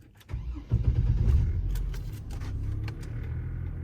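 A Chevy Trailblazer LTZ cranks briefly and catches, its engine surging to life and then settling into a steady, close idle rumble.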